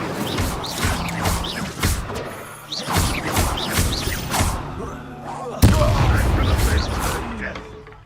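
Spell-combat effects in Hogwarts Legacy, including an Incendio fire spell, burst out as repeated booming impacts and crackling blasts, loud and close, with shouted voices between hits and a heavy crash near the end.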